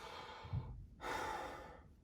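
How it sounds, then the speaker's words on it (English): Heavy, audible breaths through the mouth, close up: a sharp inhale, a brief pause, then a long airy exhale. "upper chest, mouth breathing might look like this"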